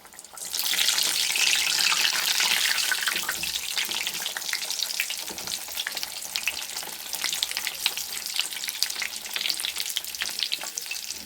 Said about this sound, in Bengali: এবারে আমি দিয়ে দিচ্ছি কড়াইয়ের মধ্যে তেলটাও আমার গরম হয়ে গেছে